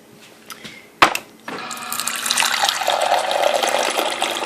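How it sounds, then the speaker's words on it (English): A GE Slate refrigerator water dispenser clicks on and then runs a steady, close stream of water that fills a container. The flow builds and holds for several seconds, with no talking. "we're really enjoying this water dispenser"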